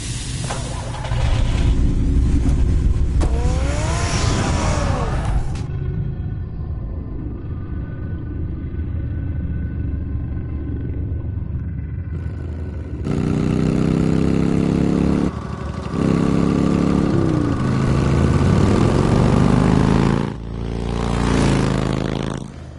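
A car engine in a Batman video game rumbles and revs loudly, then settles into a steady drone with shifting tones, building again in bursts as the vehicle pulls away, with no one talking.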